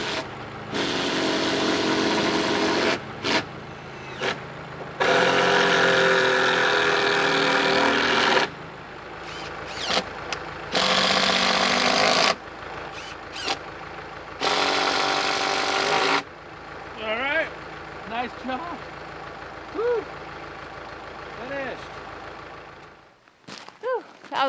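A farm tractor engine idles and labours as it lifts roof beams on an off-grid homestead build, a low continuous rumble broken by loud bursts of noise, with faint voices and bird calls in the quieter later part.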